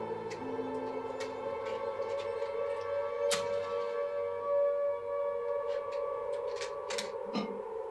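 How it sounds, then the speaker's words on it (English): Air raid sirens wail in a steady, distant, sustained tone in a film set in the 1940s, with faint ticks and small sounds over the drone and no talking. "When the sirens stop, we should go into the attic."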